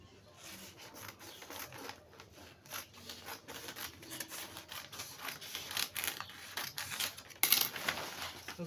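Scissors cut through aso oke fabric for an autogele, producing a series of soft snipping and rustling strokes, close and fairly faint, growing busier toward the end.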